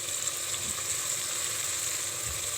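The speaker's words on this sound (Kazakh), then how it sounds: "етіміз бен жуамыздың үстіне бұрышымызды, сәбізімізді салып бірге қуырып аламыз" Meat sizzles steadily in a hot pan with onion, pepper and carrot, a continuous close frying hiss with no talk over it.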